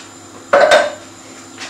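Liquid stock and chopped tomatoes tumble into a cooking pot for a sweet potato and spinach stew, a single short splashing clatter of about a quarter second, close and fairly loud, followed by quiet.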